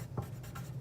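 Pen or pencil writing on paper while working a math solution, a few short scratchy strokes in quick succession, close and soft.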